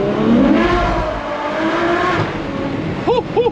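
A Ferrari 812 Superfast V12 pulls hard on a German autobahn, its engine roaring loudly from inside the car, with short shifting blips near the end and no talking.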